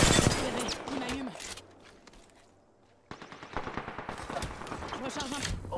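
Rapid automatic gunfire from the video game Apex Legends bursts loudly and close, drops away into a near-silent lull for about a second, then returns in dense rattling volleys layered with game effects.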